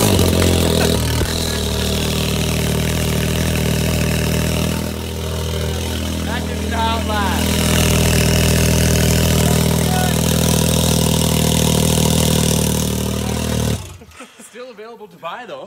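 A Can-Am X3 side-by-side with a custom straight pipe exhaust fires up and idles loud and close, a deep rumble that rises once before settling, then drops away abruptly near the end; people talk over it.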